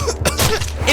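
Bakugo, an anime character from My Hero Academia, gives a brief, rough wet cough as he brings up blood, a couple of short throaty bursts over a loud background.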